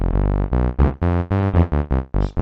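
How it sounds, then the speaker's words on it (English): A soloed Bitwig Studio polysynth bass for a glitch hop beat plays a series of loud, distorted, buzzy notes in short rhythmic bursts with brief gaps, varying in pitch and growl, heard alone. "this time we'll just add a polysynth"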